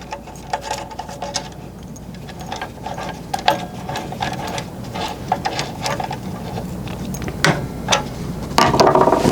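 A T30 Torx screw is driven to refasten the guard link on a DeWalt DWS780 mitre saw, giving close, intermittent ratcheting and mechanical clicks over a low background hum, with no voices.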